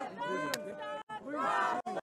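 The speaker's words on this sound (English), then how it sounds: "The crowd cheering for Karlsruhe." A dense crowd at a table football tournament final roars and cheers with shouting voices, loud and sustained, briefly dropping out twice before surging again.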